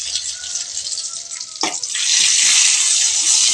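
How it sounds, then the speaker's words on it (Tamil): Tempering of mustard seeds, dried red chillies and curry leaves poured into white pumpkin (ash gourd) pachadi: a steady hiss swells into a loud, dense sizzle after a sharp splash, then holds bright and continuous. "நம்ம கடுகு தாளித்து ஊற்றினா போதும்"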